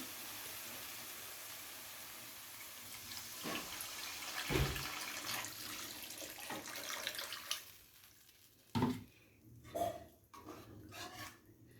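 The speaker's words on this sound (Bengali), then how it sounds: "এই সময় দিয়ে দিতে হবে আমাদের এখানে গ্রেভির জন্য জল" Water poured into sizzling fried spice paste for katla fish gravy, a soft faucet-like rush building over several seconds, followed by a few quieter clinks and splashes near the pan.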